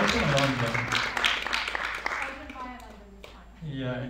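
An audience applauds at a live gathering, a broad wash of clapping that fades over a couple of seconds while someone speaks over it.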